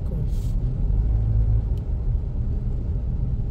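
Dense traffic rolling through San Salvador streets, a steady, close, loud rumble of car engines and tires with a brief faint knock or two on top and no clear speech.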